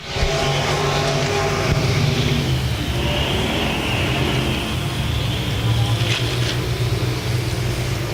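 IMCA Sport Modified race cars roaring around the RPM Speedway dirt track during a heat race, a loud, continuous engine drone with engines rising and falling as the pack passes, and an announcer's voice faintly mixed underneath.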